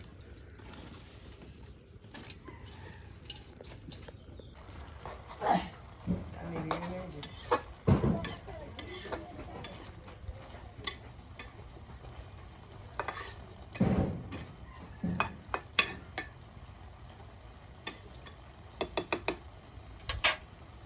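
Chickpeas are dry-roasted in a pan while being stirred, producing scattered scraping, rattling and clicking strokes over a quiet background. The strokes are fairly faint and irregular, with brief louder bursts.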